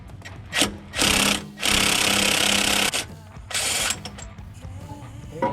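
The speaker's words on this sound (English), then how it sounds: "First thing we're gonna do is remove the nut from our transfer case yoke." A power tool hammers off the nut on a Jeep Wrangler transfer case yoke in loud, close bursts of rapid rattling impacts, three main runs separated by short pauses.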